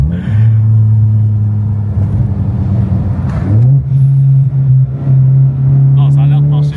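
A Ford Mustang widebody with a manual gearbox idles with a loud, steady engine drone that shifts up in pitch partway through, while people talk close by over it.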